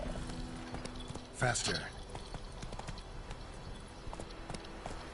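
Horse hooves clip-clop in The Witcher video game, a steady galloping patter running under a voice, with a louder burst of movement near the start.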